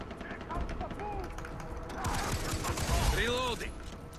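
Light machine gun fire in Far Cry 3 co-op rattles as steady mid-level bursts beneath overlapping voices and game sound effects.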